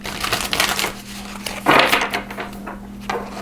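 Tarot cards being shuffled, giving a run of crisp papery riffling and flicking bursts with one louder flurry midway, close and fairly soft, no talking.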